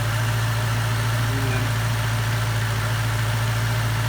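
A 5.4 litre quad cam 42 valve V8 with no turbo or supercharger idles steadily, a loud, constant low rumble with a deep hum and no speech throughout.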